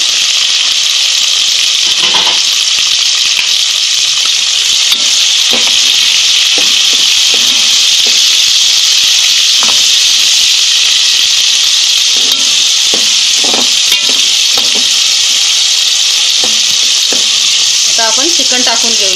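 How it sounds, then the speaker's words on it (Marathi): Chopped tomatoes hit hot oil with golden-brown onions for a spicy Malvani chicken curry, producing a loud, steady close sizzle with intermittent scraping stirs throughout and no voices. "आपण टोमॅटो कट करून घेतले ते टाकून घेऊया"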